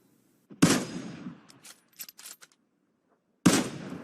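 Gunfire in the mobile battle royale game PUBG Mobile: two sharp, loud shots about three seconds apart, each with a decaying tail, and a few faint clicks and thuds between them.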